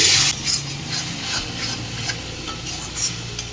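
A spatula stirs Bengali fish curry masala frying in oil with a little water in a pan, giving a continuous close sizzle with rough scraping strokes that rise and fall steadily, and no talking.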